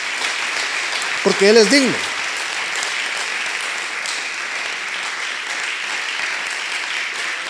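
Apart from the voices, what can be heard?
congregation clapping hands in praise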